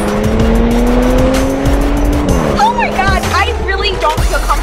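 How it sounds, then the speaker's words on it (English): A 2013 Audi S6 is driven hard, its engine droning loud and close as it revs through gears, then the tires squeal in sharp wavering bursts through a fast turn, with a voice speaking over the cabin noise. "So that was the 2013 Audi S6."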